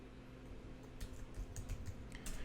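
Typing on a computer keyboard during JavaScript console work, a few faint clicks of separate keys over quiet room hiss, ending with a key press.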